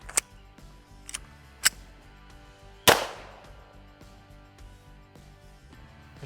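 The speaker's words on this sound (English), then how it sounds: "So let's shoot this thing here with that iron sight top rail and see how it does." Pistol shots from the Alien pistol fired with iron sights on its top rail: a few sharp cracks, then one loud close report with a ringing tail.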